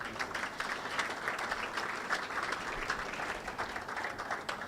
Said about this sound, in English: Let's give everyone that's received commendations a round of applause.